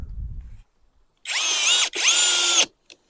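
An ELTOS DA-16DFR cordless screwdriver whirs at high speed in two bursts, its pitch dropping as the screw bites into seasoned ash wood, following a brief low thump.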